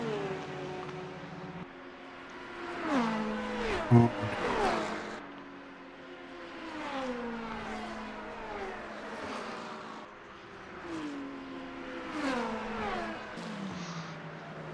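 Hypercars threading through the GTE field at Monza's Curva Grande in a sim racing game, with several engine notes rising and falling as cars pass and shift, moderately loud and overlapping.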